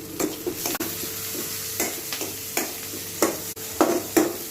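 Onions with salt and green chillies frying in oil for chicken curry, a low sizzle punctuated by repeated spoon knocks and scrapes against the pan at irregular intervals.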